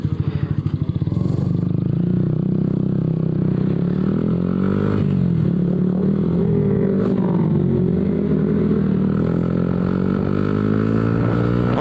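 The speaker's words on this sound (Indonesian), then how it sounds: "Closingnya kita ngegas ninja" A Kawasaki Ninja motorcycle engine revs loudly and close, a continuous buzzing drone that rises and falls in pitch as the throttle is worked, opening with a quick sputtering burst.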